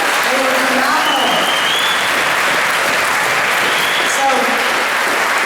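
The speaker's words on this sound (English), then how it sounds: "Can we give these young performers another round of applause, please?" Sustained applause from a concert audience for young orchestra performers at a spring school concert, steady and dense throughout, with a voice speaking briefly over it.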